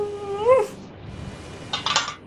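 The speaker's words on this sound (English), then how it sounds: "you hear the howl of a Yeti" A Yeti's howl, a wavering rising cry up close, followed by a brief hiss of noise, quiet between, with no voices.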